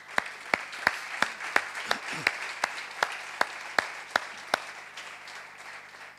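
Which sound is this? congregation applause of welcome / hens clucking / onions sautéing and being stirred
congregation applause of welcome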